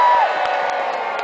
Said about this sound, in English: Who's cheering for the archers?